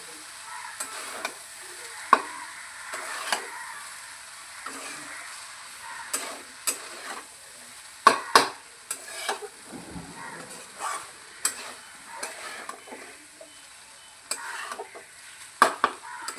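Food stirred and sizzling in a hot pan during quick home cooking, with intermittent scraping strokes of a spoon against the pan over a steady low fry, close and moderately loud.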